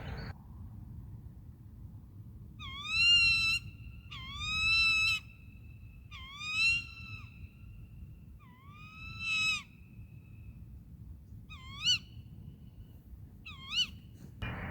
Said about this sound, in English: an owl had literally just flown over the top of me